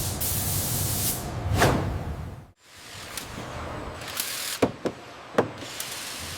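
A spray gun lays the final paint coat on a helicopter in a manufacturing plant: bursts of airy hissing, a brief silence, then several sharp clicks and taps.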